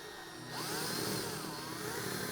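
An electric drill spins up a router part, a loud steady whine with a rising and falling tone that starts half a second in and holds to the end, with no talk.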